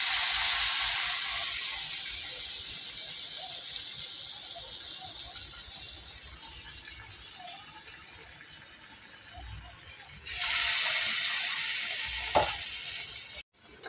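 Gram-flour battered balls frying in a wok give a steady, close sizzle and crackle that swells louder near the end as more batter goes into the hot oil, with no talking.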